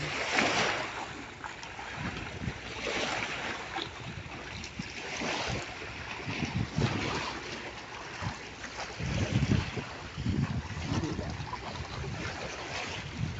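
Seawater and waves wash steadily against the shore by a harbor on a calm, fine day, a constant broadband rush with occasional louder surges, close and continuous.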